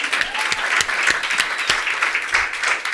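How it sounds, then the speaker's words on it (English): Loud audience applause at a keynote speech, with individual claps popping out of the dense mass. It is steady throughout and has no talking over it. "Another round of applause."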